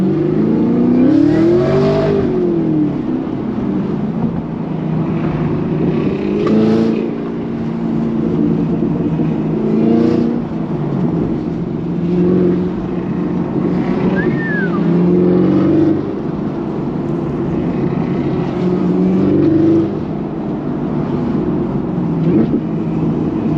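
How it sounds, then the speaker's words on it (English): Turbocharged car engines rumble and rev continuously at a gas station, rising and falling in pitch as vehicles launch and accelerate nearby, with a faint voice now and then. "Ain't nothing but good car sounds, chat, and I can hear bro's turbos over my whip."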